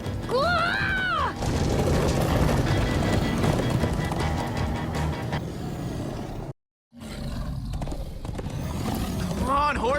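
Galloping horse hooves in Minecraft: Story Mode pound steadily beneath a roaring, mechanical game soundscape, with brief vocal cries and a short dropout near the end.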